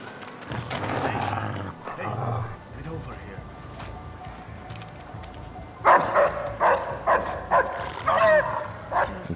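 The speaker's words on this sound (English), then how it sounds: "dogs are indeed back, and they can be pretty tough to deal with" Dogs bark in the stealth game Splinter Cell Blacklist, a run of loud, repeated barks in the second half following a stretch of game ambience and background noise.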